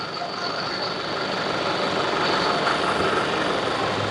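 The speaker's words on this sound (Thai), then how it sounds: "โอ้เสียงเครื่องยนต์พอเลยนะครับ" A steady, broadband engine drone runs throughout with a constant low rumble and hiss, a poorly maintained diesel truck idling close by without pause.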